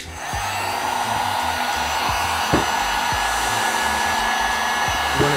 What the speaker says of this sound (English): You wanna keep your heat gun moving.